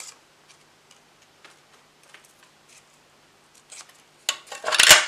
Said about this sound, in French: Donc là, les petits coins, on va les couper.